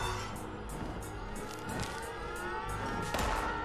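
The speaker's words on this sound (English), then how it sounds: "Air raid sirens are going off at the airport again." Air raid sirens wail over the airport in the Fallout 76 game world, a steady, loud sustained tone layered with game ambience and a few brief clatters, with no talk.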